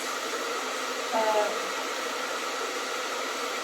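A hair dryer blows steadily throughout while curly hair is dried with heat, a constant close whooshing hum with a faint brief whistle partway through and no talk.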